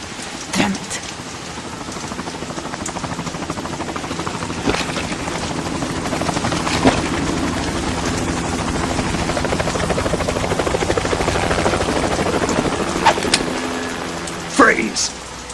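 A helicopter from the Metal Gear Solid 2 game churns as a steady, loud rotor drone over rain-like noise on a tanker, with occasional sharp impacts and voices speaking.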